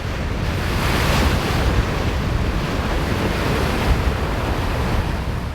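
Ocean waves surge steadily while strong wind buffets the microphone aboard a sailboat at sea, in a continuous, loud roar with no talking.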